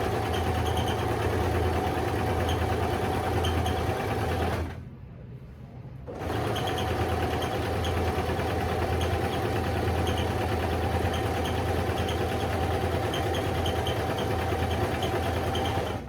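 A sewing machine stitching seat covers for a 1959 Ford Country Sedan runs with a steady mechanical whir, pausing briefly midway before continuing at an even pace nearby.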